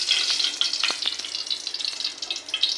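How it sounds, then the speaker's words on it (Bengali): Soybean oil poured into a preheated wok, sizzling and spitting with bright crackles throughout, close and steady. "আমি এখন তেল দিয়ে দিব"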